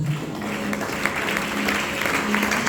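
A church congregation at a French-language worship service claps and cheers for Jesus, a steady dense wash of applause sustained throughout at moderate loudness.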